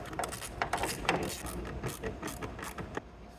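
A socket ratchet backs out 7mm screws from the glove box of a 1994 Chevy K1500 pickup, making a close series of quick mechanical clicks and taps in an uneven rhythm.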